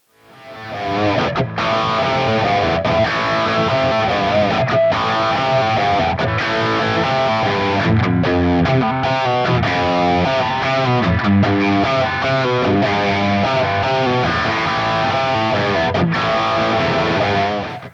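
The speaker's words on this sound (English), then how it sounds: "big, gainy, crushing distortion tones" Heavily distorted electric guitar, an Epiphone Joe Bonamassa 1963 SG Custom, playing continuously, thick and crunchy with dense sustained chords, loud and up close with no voices.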